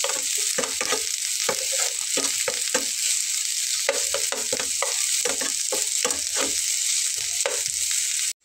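Radish fries in a pan with a bright, continuous sizzle, while frequent scraping and tapping of a stirring utensil sounds close. No voices are present, and the sound cuts off abruptly at the end.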